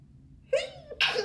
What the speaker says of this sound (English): I think I got to sneeze.